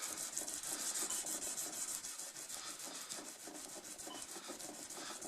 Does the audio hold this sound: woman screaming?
no